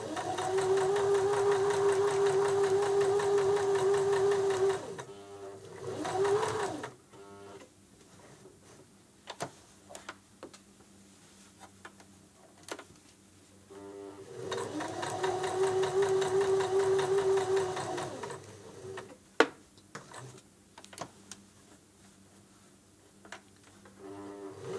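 Sewing machine stitching along a seam, a steady whirring run of about five seconds, a stop with soft ticks and handling clicks, then a second run of similar length, fairly close and with no talk.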